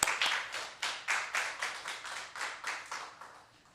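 Hands clap in an even, rhythmic beat during a Korean church service, a dozen or so crisp, close claps in quick succession that gradually fade in strength, with no one speaking.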